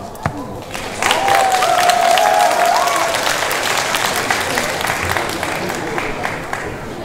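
A crowd at a singing competition final applauds as a contestant is called to the stage, steady dense clapping swelling after the first second with faint cheering and a brief tone near the start.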